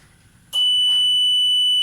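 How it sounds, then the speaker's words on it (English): A science fair gate barrier model sounds its emergency buzzer, a loud, piercing continuous electronic tone that cuts in abruptly after a quiet moment and holds steady, heard up close. "the buzzer starts ringing, which is the emergency buzzer"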